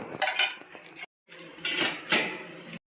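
Metal clinks and scrapes of a lid being set onto a cast-iron kuzhi paniyaram pan, a cluster of close, bright clatters, a short pause, then more rattling contact.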